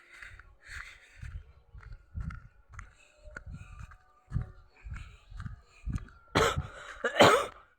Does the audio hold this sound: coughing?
yes